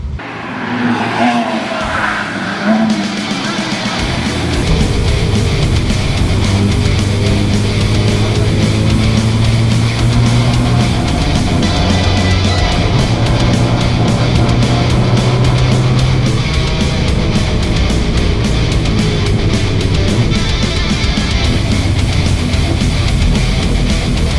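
Race car engine idling and warming up on a track drying after rain, a loud steady mechanical drone with shifting pitch that holds throughout after a quieter start.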